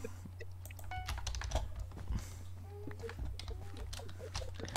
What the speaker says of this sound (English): Yeah, I have a very loud keyboard.